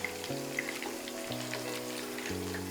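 Chicken kebabs fry in oil that is just heating up, a soft, dense, steady crackle like light rain, heard under a looping background melody with no one talking.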